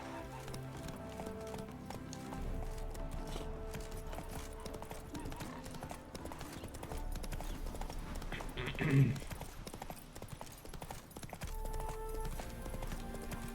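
Horse hooves galloping in The Witcher 3: Wild Hunt, a rapid steady clip-clop rhythm running throughout with one brief louder snort or whinny, under someone talking and soft game music.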